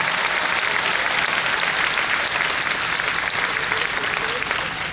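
A church congregation at a talk by Padre Chucho on family and temptation applauds loudly and continuously, a thick wash of clapping that holds steady for several seconds with no voices on top.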